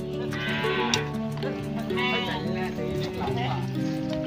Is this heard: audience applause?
no